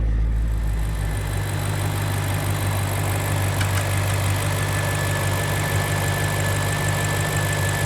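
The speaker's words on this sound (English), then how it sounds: "I'm just gonna let it idle for a couple of minutes" A BMW N62 V8 idles under an open hood during coolant transfer pipe repair work, a steady low hum with faint ticking, close and even throughout.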